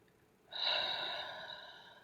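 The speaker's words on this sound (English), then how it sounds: "So this is witchcraft breathing." A single deep, drawn-in ritual breath, a sharp close inhale rising suddenly and then sustained steadily for over a second in a quiet room, with no talk.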